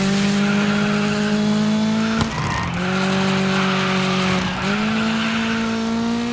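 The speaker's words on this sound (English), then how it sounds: "Now we have to do some drifts." Car drifting in the racing video game DIRT 5, a loud sustained engine drone with steady pitch shifts and two sharp tire squeals as it slides sideways, no voices.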